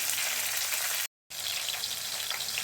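Green chillies frying in a pan for tomato chutney, a steady loud broadband sizzle with no talk, broken by one brief total dropout near the middle.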